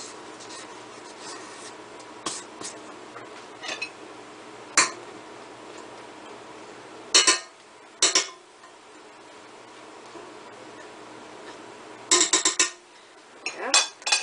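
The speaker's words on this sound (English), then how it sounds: "Alright, now it wants me to scrape this down." A spatula scrapes cakey chocolate chip cookie dough down the sides of a mixing bowl, with scattered scratchy strokes and occasional light clinks against the bowl, close up and without talk.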